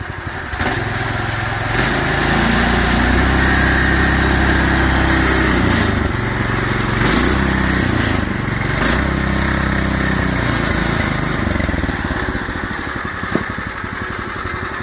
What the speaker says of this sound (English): put it in neutral and rev it once or twice